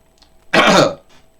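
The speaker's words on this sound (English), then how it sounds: "Sorry for that cough." A single short, harsh cough or throat-clearing bursts out close to the microphone, lasting about half a second against near silence.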